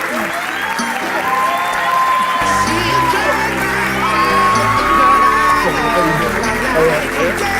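A large crowd at a CeeLo Green appearance at MDC North Campus applauds loudly and continuously, with whoops and cheers rising over the clapping throughout.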